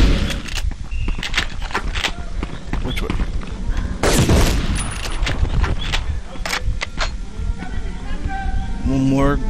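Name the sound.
shotgun fire in Medal of Honor video game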